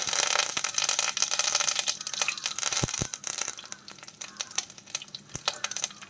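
Curry leaves crackling and sizzling in hot oil right after mustard seeds pop, cooked for a fish curry; a steady, fairly loud frying hiss with sharp spits and pops scattered throughout.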